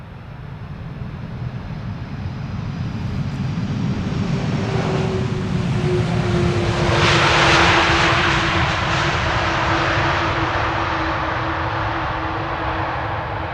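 A Cargolux cargo airplane arriving from Miami lands at Amsterdam Schiphol Airport, a broad jet roar that swells as it passes and then holds steady and loud.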